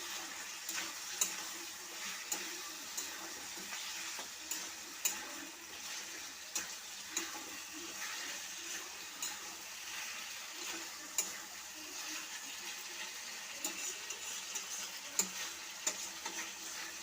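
Boiled, chopped potatoes sauté in a pan, giving a soft, steady sizzle of frying food with regular scraping and stirring taps, close by and fairly quiet, with no talking.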